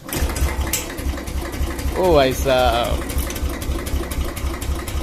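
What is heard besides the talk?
Royal Enfield Classic 350 motorcycle engine starting on first kick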